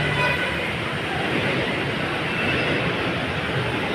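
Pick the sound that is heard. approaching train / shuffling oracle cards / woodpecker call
approaching train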